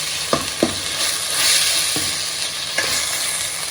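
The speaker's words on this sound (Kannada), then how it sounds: "ಟೊಮೆಟೊ ಎಲ್ಲ ಸಾಫ್ಟ್ ಆಗೋವರೆಗೂ ಬೇಯಿಸ್ಕೊಳ್ಳಿ" Tomato masala fries in a pan for crab sukka, sizzling steadily while a spatula scrapes and stirs it in several distinct strokes, close and fairly loud, with no talking.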